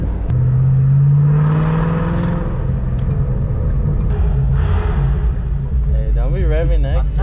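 A Terminator Cobra car engine hums and rumbles steadily while people talk over it, with the pitch rising and falling as it revs.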